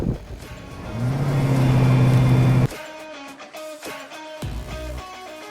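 A car on a shakedown run holds a loud steady engine drone for about two and a half seconds, then drops abruptly to a quieter, uneven idle or coast.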